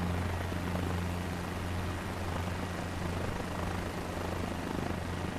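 A helicopter engine and rotor drone steadily in a flight video game, a continuous mid-level whir whose pitch shifts slightly as the RPM is raised and lowered.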